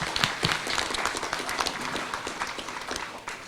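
An audience applauds steadily, the dense clapping continuing at an even level throughout.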